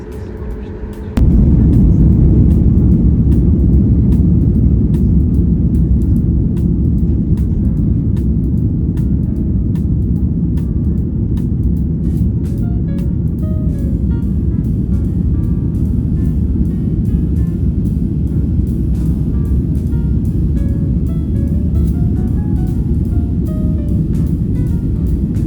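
American Airlines Boeing 737 airliner roaring through its takeoff roll from inside the cabin, a loud sustained low engine rumble that builds abruptly and holds steady throughout.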